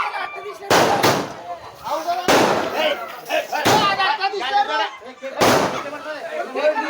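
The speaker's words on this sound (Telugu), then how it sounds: "ఫ్రెండ్స్ చూడండి, బాణసంచ ఎలా కాలుతుందో. మొత్తం 30 షాట్లు తెచ్చినారు." Fireworks shots go off at a birthday cake-cutting celebration, several sharp loud bursts spaced a second or so apart, each trailed by crackling, while people talk and cheer throughout.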